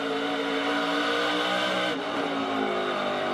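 Onboard race truck engine held at throttle during a qualifying lap for the 2023 Tyson 250, a loud, steady, close roar that sustains without a break and has no talk over it.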